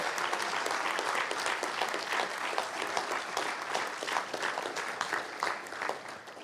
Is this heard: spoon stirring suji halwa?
no